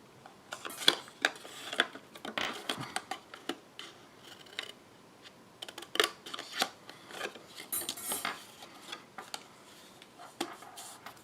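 Scissors cutting card stock for handmade holiday cards, a close series of crisp snips and crunchy cuts in irregular bursts, fairly quiet, with no speech.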